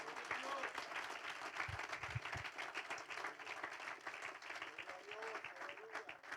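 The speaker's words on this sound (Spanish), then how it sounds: "Puede darle un aplauso al Señor." A church congregation applauds during a service, continuous dense clapping at a fairly low level with voices audible beneath it.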